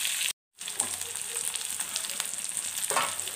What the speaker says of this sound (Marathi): कांदा लालसर होऊ द्यायचा।